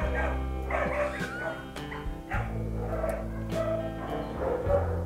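A dog barks and yips repeatedly in short bursts over several seconds, fairly close, with a whimpering tone between barks at a pet rescue adoption segment; no talk over it.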